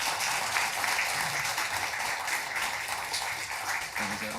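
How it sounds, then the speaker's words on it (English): A festival audience applauds comic artist Junko Mizuno at the end of a talk, with steady, dense clapping filling the room continuously from start to finish. "Round of applause for Junko."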